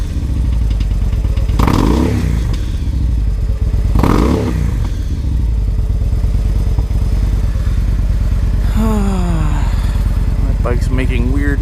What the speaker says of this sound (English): Bike's making weird noises.